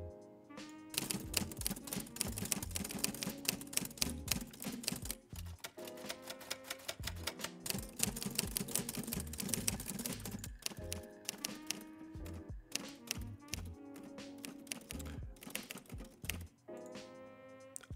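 Typewriter typing sound effects: rapid, irregular mechanical key strikes and clacks in bursts separated by short pauses, crisp and close.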